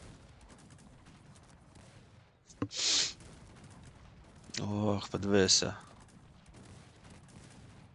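Two heavy cannon volleys from artillery in the real-time strategy game Cossacks 3 boom out in separate bursts, the second longer and rumbling, over quiet background, with a man's brief exclamation between them.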